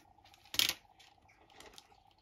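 Paper for a handmade Mum's Love baby scrapbook album is cut along a 3 cm fold line, giving one short, crisp cutting burst over a faint, quiet room background.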